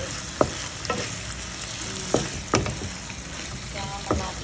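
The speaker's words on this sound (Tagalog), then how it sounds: "Stir fry pork." Pork stir-fries in a hot pan with a steady sizzle, and a utensil scrapes and stirs in several sharp strokes close by.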